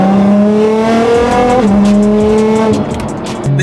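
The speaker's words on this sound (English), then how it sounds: "The GTR definitely pulls hard" A Nissan GT-R accelerating hard from up close, the engine revving loudly through rising gears with a clear shift in pitch partway through, alone with no talk.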